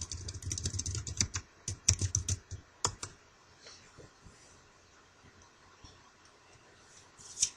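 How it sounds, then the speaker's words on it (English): Computer keys typed in quick bursts of close, crisp clicks, pausing briefly before a few more taps and a final louder keystroke. "Type Computer Tutorials and press Enter."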